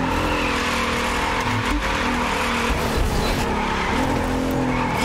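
A Nissan Skyline squeals its tires on a highway in The Crew 2, a continuous loud engine drone with skidding rubber and shifting revs, close and steady throughout, with no talking.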